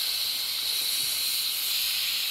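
A Coleman CQ table lamp lets out a faint, steady hiss of air escaping from its check valve, a continuous soft airy rush heard up close with no talking.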